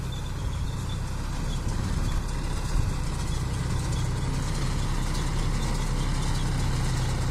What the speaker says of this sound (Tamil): இதோ உழுறாரு டிராக்டர் வச்சு உழுறாரு